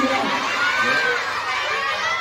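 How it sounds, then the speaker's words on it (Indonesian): Primary school children at a Maulid Nabi celebration in Bogor, Indonesia: a near, lively burst of young voices shouting and cheering together, lasting the whole moment. "Tepuk tangan"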